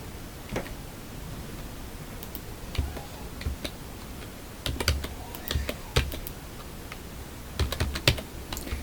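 Keys clatter on a computer keyboard during spreadsheet work, soft close clicks arriving in short irregular bursts separated by quiet pauses.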